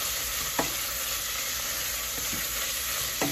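Thick-cut bacon frying in a pan, a dense, steady sizzle and crackle filling the whole stretch, with a couple of faint utensil taps.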